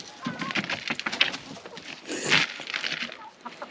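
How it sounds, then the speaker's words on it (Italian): Chickens cluck and squawk close by at a farm in Mexico, short irregular bursts of clucking with a louder flurry midway, while people speak faintly in the background. "viene attaccato dalle galline"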